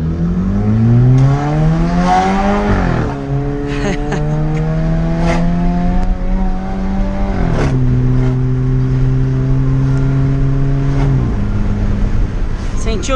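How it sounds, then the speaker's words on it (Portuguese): A Jeep Compass Limited 2.0 with a stainless steel exhaust and diffuser revs hard on a street, loud and close, climbing through several rising pulls with gear changes and exhaust crackles, while a voice talks over it. "Agora vamos testar na rua, acelerando."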